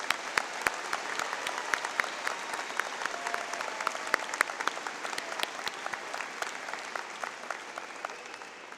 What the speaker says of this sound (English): I'm going to ask you to give applause one more time, particularly for the families and significant others of the students